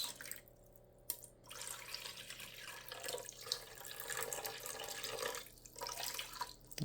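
Water poured into a Ninja Speedi slow cooker pot over chicken, a quiet, continuous trickle and splash with faint drips, alone and close by.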